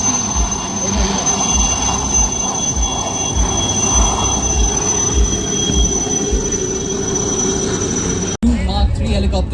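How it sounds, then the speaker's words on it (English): An Indian Army Cheetah helicopter flies over during a Vijay Diwas celebration on a reconnaissance task, making a loud, sustained turbine whine with rumbling rotor noise and a voice speaking over it. "Cheetah is a very reliable helicopter for undertaking recce and observation tasks as well as casualty evacuations from remote areas as can be seen over here"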